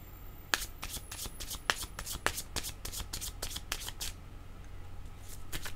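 Tarot cards shuffled by hand in a quick run of crisp riffling bursts, close and fairly soft, fading out after about four seconds with no talk.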